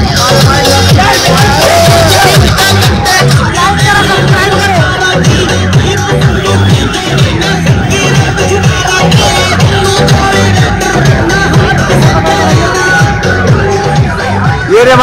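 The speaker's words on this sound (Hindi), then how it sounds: "ये देख सकते हो भाई कितनी ज्यादा भीड़ है" A large crowd gathers to welcome kabaddi player Vishal Chaudhary, making loud, dense hubbub with shouts and whoops over a steady rhythmic beat that runs throughout.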